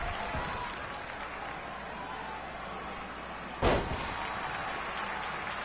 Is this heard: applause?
yes